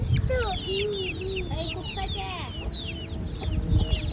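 Chickens clucking and chirping nearby in a rural yard, a busy overlapping run of short calls with low background rumble and faint voices.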